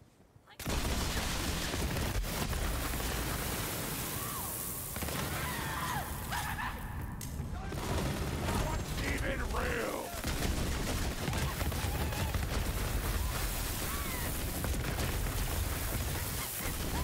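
The legendary Spade gun in Borderlands 3 fires dense, rapid bursts of loud gunfire, layered with in-game explosions and effects, with a brief lull midway and a voice speaking over the shooting.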